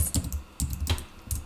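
Keys on a computer keyboard are tapped in short, close bursts of soft, dull clicks, heard near and alone.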